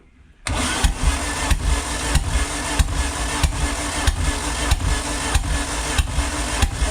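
Peugeot 205 GTi Mi16 engine cranking at full throttle on the starter during a compression test, a steady rhythmic churn with regular beats about every two-thirds of a second, loud and close, no talk.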